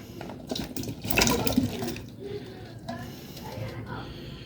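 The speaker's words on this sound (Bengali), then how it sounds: "আমি সবগুলো এখানে ঢেলে দিব ঠিক আছে" Chopped onion, green chili, potato and tomato tipped into a pot together, giving a brief rattling, sliding tumble followed by softer shuffling, with a person talking over it in a home kitchen.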